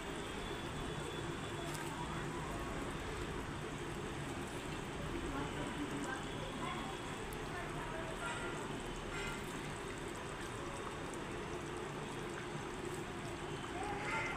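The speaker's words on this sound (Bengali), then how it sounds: "এখন এগুলো ফুটে গেছে আর আমি এখন মাছগুলো দিয়ে দিচ্ছি" Pieces of rohu fish go into a pan of boiling liquid while cooking rui mach bhuna, with a steady, rain-like wash of bubbling and simmering noise that continues evenly throughout.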